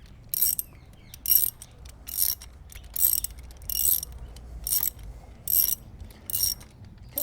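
A ratchet wrench loosens bolts on Chinese-made engine crash bars fitted to a BMW R1200R motorcycle, one bolt having been torqued to 25 Nm. Repeated bursts of quick ratcheting clicks, about nine in all, come close and alone with short pauses between.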